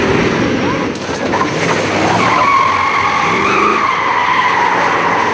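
Cars racing on a timed track stage at a regional motorsport event, engines revving and tires skidding continuously and loudly, with a sustained high engine whine rising over rumbling road noise.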